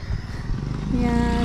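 A motorcycle engine passes in a forest setting, its rising tone swelling louder toward the end beneath excited voices shouting nearby.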